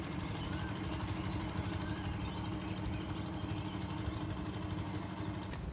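Steady low droning motor boat engine on a flooded river in monsoon season, running continuously at an even idle-like pace, moderately close and without pauses.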